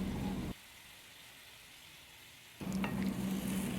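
Browned tofu sizzles in a pan as shoyu is spooned over it, a steady hiss that drops to a soft simmer when the heat is turned down, then flares back to loud crackling frying.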